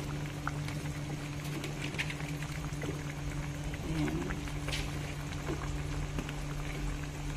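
Steady bubbling and popping of a pot of salmon head soup at a boil, with a low constant hum underneath and a brief spoken word near the end.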